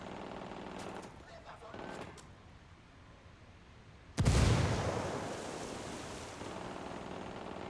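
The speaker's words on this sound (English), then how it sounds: "Unidad's firing on the cartel." Gunfire in a video game as a unit opens fire on a cartel: a sudden loud, heavy burst about halfway through that stays as sustained roaring noise to the end, after a quieter stretch of background sound.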